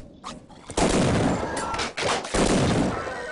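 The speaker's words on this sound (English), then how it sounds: "Is he trying to shoot at me through the wall?" Enemy gunfire coming through a wall in Half-Life: Opposing Force, loud dense bursts of shots filling the clip with a brief pause in the middle, no talk.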